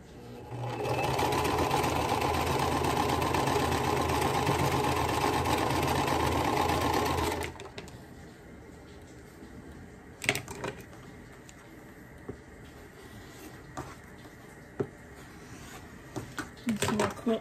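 A sewing machine runs steadily, stitching a milk cow quilt block, for several seconds, then stops abruptly, leaving a quiet room with a few small clicks and handling noises.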